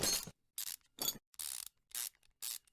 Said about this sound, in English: 3 minutes of unscrewing the bolts.